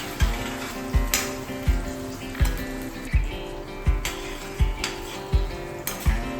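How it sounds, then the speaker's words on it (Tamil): About 300 grams of whole small onions sauté in sesame oil for a chilli chicken fry, sizzling steadily up close while a spoon stirs and scrapes the pan in a regular rhythm. "இப்போது இதில் 300 கிராம் அளவுக்கு சின்ன வெங்காயத்தை சேர்த்து நல்லா வதக்கிக்கலாம்"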